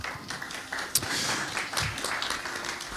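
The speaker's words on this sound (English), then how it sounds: "Please give her a round of applause." Scattered, moderate applause from a conference audience at a business summit in Cairo, with individual claps standing out and a few faint voices underneath.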